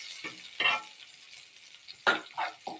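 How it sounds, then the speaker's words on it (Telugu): Seasoning seeds and curry leaves fry in hot oil, giving short spitting bursts of sizzle and crackle separated by quieter gaps, close and fairly soft. "కొంచెం పోపు గింజలు కరివేపాకు వేసుకొని ఇలా వేయించుకోవాలి"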